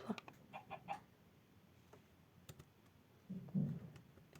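A Minecraft chicken gives a few soft clucks at the start and a louder cluck near the end, while faint keyboard tapping sits quietly underneath.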